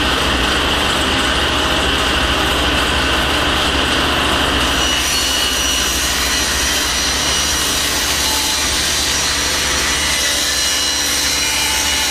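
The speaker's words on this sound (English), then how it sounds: "I'm going to rip them into 3 3/4 inch strips." Table or circular saw ripping scrap plywood into strips in a shop, a loud continuous whining cut that runs steadily for the whole stretch, easing somewhat in the second half.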